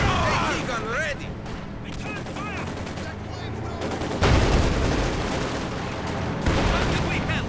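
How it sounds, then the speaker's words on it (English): Field artillery fires during a Company of Heroes 2 battle, with repeated booms and crackling gunfire bursts over a dense, noisy combat mix, while a voice talks over it. "Large position up here, field artillery firing away."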